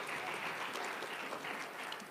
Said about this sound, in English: Can we give a round of applause for all of our panelists today?